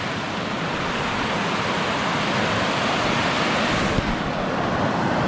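Small waterfall spilling into a rock pool at Edith Falls in Litchfield National Park, a steady, close, full rushing splash of falling water that holds unbroken throughout with no voices.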